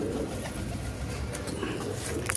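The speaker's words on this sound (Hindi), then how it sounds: "देख लो भाई किस टॉप क्वालिटी के कबूतर ला के दे रहे हैं" Pigeons in a Delhi loft coo softly and repeatedly at close range, their low throaty calls rolling over a steady background murmur.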